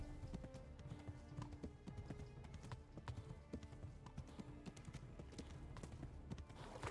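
A horse gallops in the video game Kingdom Come: Deliverance, with rapid, rhythmic hoofbeats clopping continuously and close, fairly faint overall, with no talk over it.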